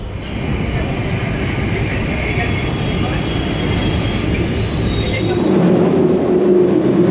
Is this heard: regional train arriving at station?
yes